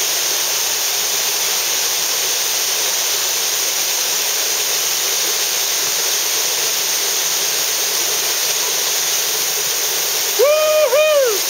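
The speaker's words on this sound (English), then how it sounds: "Let's go in close for a look at this waterfall." Fari Falls pours as a steady, broadband rush of falling water heard up close, unbroken throughout, with a brief high-pitched voice or whistle near the end.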